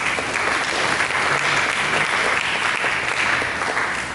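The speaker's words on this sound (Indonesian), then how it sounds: "Mari kita berikan tepuk tangan." A congregation at a church service gives a sustained burst of applause, steady dense clapping from many people that holds for about four seconds and then starts to fade.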